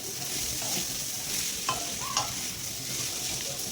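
Masoor dal stirred in a pan over a high gas flame, a steady close sizzle with soft scraping strokes of the spoon throughout.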